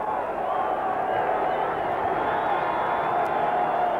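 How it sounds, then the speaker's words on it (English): A home crowd roars steadily at the 1988 Rugby League World Cup final between New Zealand and Australia, a dense, sustained wash of cheering heard at a distance in a large stadium. "Out they come, and the home crowd give them a big roar."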